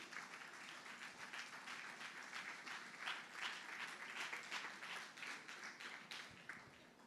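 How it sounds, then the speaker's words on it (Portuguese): A congregation at a Portuguese-language church service claps steadily for Jesus, a sustained wash of applause from a crowd at low, even loudness without a break. "Dá uma salva de palmas para Jesus"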